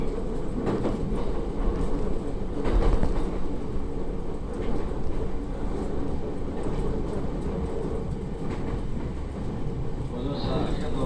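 Narita Line electric train running, a steady loud rumble of wheels and car body noise with faint rhythmic clatter throughout, no talk.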